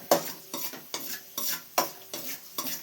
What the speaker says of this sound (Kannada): ಸೊ ಇದು ನಾವು ಹೇಳ್ಕೋಬಹುದು ದ್ರಾಕ್ಷಿ ಮತ್ತು ಗೋಡಂಬಿ ತುಪ್ಪದಲ್ಲಿ ನೆಂದಿದೆ ಅಂತ ನೋಡಿ ದ್ರಾಕ್ಷಿ ಎಲ್ಲ ದಪ್ಪ ಆಗ್ತಾ ಇದೆ